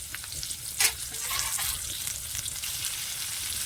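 Onion frying in a kadhai over a wood-fired chulha in a village kitchen, a steady hissing sizzle with a sharp burst near the start as it goes in, then soft stirring scrapes, close and unaccompanied by talk.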